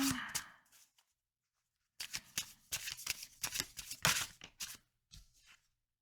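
Tarot and fortune cards shuffled by hand, quick riffling bursts and soft slaps close by, with a pause of silence between shuffles.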